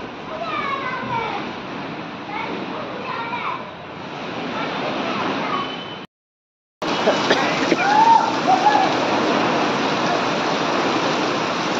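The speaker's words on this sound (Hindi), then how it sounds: "बहुत तेज बारिश आ रही है।" Heavy rain pours down in a steady, dense hiss with splashing, loud and continuous apart from a brief cut-out, while voices are faintly heard.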